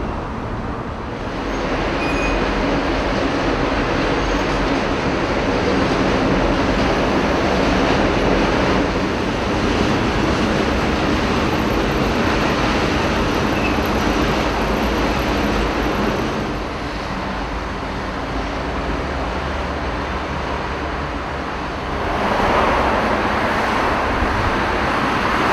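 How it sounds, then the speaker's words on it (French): Dense, heavy road traffic roars steadily at the entrance of the Fourvière tunnel in Lyon, a loud continuous rush of passing vehicles with swells as cars and trucks go by, no voices present. "soumis à un trafic quotidien très important, comme on peut le voir ici à l'entrée du tunnel de Fourvière"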